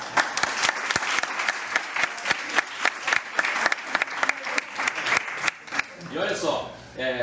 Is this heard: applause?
yes